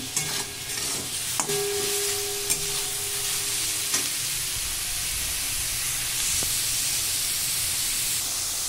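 Soybean chunks for chilli soya sizzle and hiss steadily in a hot pan while a utensil scrapes and stirs them, with a few sharp clinks near the start.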